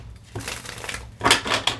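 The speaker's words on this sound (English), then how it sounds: "We're gonna shuffle again." Tarot cards being shuffled by hand, a dense papery riffling and crunching that swells near the end in a couple of louder bursts, close up with no talking.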